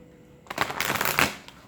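A single quick riffle of cards being shuffled, close and crisp, lasting about a second after brief quiet.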